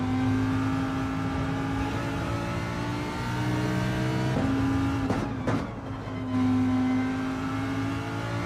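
A Chevrolet Camaro race car in Gran Turismo 7 lobby racing, its engine droning loud and continuous with rising and falling pitch as it shifts, with a brief dip and scrape midway.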